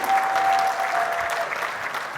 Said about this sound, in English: Could we please have a big round of applause?